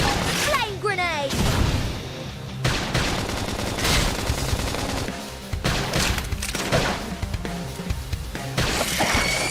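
A flame grenade goes off in a Xenoblade Chronicles X battle amid loud, crackling, rapid-fire combat noise and music, with voices calling out over the clatter.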